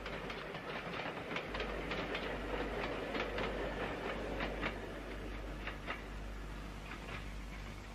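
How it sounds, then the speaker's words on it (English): A steam locomotive hauling three coaches chugs slowly into Torpantau Tunnel on the Brecon and Merthyr line in Wales, with rhythmic clicking and clanking over a steady low rumble, fairly quiet and distant, no voices. "going slowly but surely, brings her three-coach train into Torpantau Tunnel."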